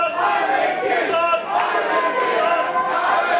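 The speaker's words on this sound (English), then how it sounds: "You can hear the crowd right now." Wrestling arena crowd roars and cheers continuously, a dense, loud wash of massed voices with shouting peaks and no break throughout.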